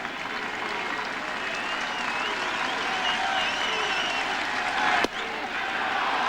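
A crowd at a 1998 Toronto Blue Jays at New York Yankees baseball game cheers and claps in a sustained, even roar, with a brief thump near the end.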